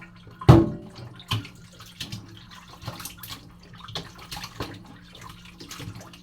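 Food is rinsed under running water at a sink. A loud splash opens it, then softer intermittent splashes and trickles follow, close by, with no talk.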